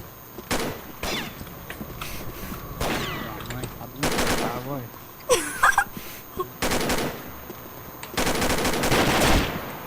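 Gunfire in the CrossFire shooter game comes in repeated automatic bursts, some long and sustained and others short, with gaps and game effects between them, while players talk over the action.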